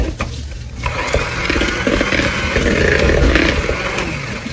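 An electric mixer runs at medium speed through peanut butter cookie dough, a steady close whirring drone that starts after a brief clatter and holds loud for several seconds.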